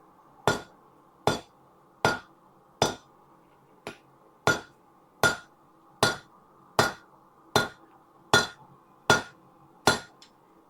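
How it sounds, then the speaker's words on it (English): A hammer strikes hot orange steel, upsetting it back on itself, in a steady rhythm of about fourteen sharp, ringing blows, close and loud with no talking. "We are hammering the steel back in on itself."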